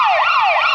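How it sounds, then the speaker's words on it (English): A short, loud burst of a wailing police siren sound effect, its pitch sweeping up and down twice in under a second, heard alone. "Police Sirens."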